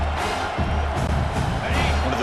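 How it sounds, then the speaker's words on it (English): A dense, loud stadium crowd roars and cheers continuously during a third-down play in the video game EA Sports College Football 26, with announcer commentary mixed beneath the noise. "Third down and the crowd really getting into it."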